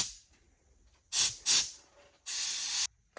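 Compressed air hisses into the airbag suspension of an LB7 Duramax truck: two short sharp bursts followed by a longer steady blast, loud and close against near silence.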